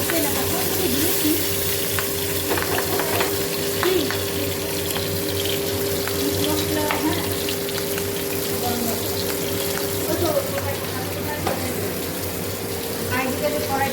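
Fish fries in a pan with a continuous sizzle under a steady mechanical hum, with scattered crackles throughout. People talk briefly nearby.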